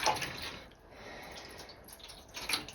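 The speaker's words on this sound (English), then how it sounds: "Just going to add more water." Water poured into a dye pot for low-immersion acid dyeing of wool roving, a steady splashing trickle with a few drip-like accents, fairly close and alone.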